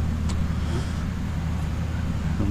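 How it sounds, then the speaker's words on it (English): Steady road traffic rumbles close by near a construction area, a dense low-frequency drone of passing cars that holds at an even level with no speech over it. "Sorry for the road noise."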